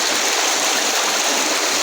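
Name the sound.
ditch water flowing out through quarry layers, secret river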